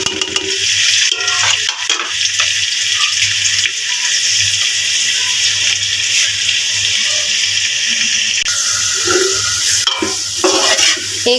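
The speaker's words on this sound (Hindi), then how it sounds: "अब इसमें मैंने ऑयल थोड़ा सा गर्म कर लिया है और इसमें अपनी शिमला मिर्च डालेंगे।" Chopped bell peppers sizzle in hot oil in a pan, a steady loud hiss broken by stirring scrapes and clatter throughout.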